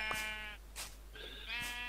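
Sheep in a video game bleat in a few drawn-out, wavering cries, two or three close calls separated by short gaps and heard alone without talk.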